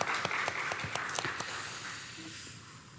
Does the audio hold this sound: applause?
yes